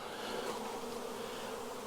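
Wild bees fly around a moved hive box, searching for their queen. A steady, soft swarm buzz holds evenly at a moderate distance from start to finish.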